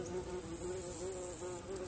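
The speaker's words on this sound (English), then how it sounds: "A bee is trying to land on my camera." A bee hovers right beside the camera in a fall vegetable garden, its loud, steady buzz droning close up with a slightly wavering pitch and no other sounds over it.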